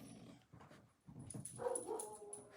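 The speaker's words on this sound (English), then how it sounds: "Barking dogs, I tell you what." Dogs bark and grumble faintly in the background, a few scattered yaps and growls at low volume, with no talking.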